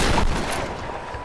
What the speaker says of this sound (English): Finally got the shotgun. I hope this thing still works. The trench shotgun.